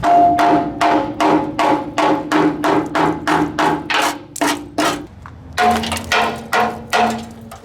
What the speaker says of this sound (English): that's what I knocked off of it, just with the hammer